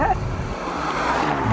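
Jaguar F-Type P300 four-cylinder engine revving past 3000 RPM while driving, a rising throaty drone with road and wind noise and someone talking over it.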